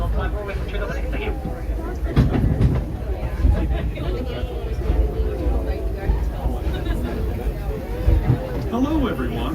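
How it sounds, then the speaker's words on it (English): Disneyland Railroad train rolling along the tracks with a steady low rumble and occasional clacks, heard from aboard under continuous crowd chatter and talk. "Hello and welcome aboard the Disneyland Railroad."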